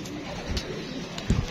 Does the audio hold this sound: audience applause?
no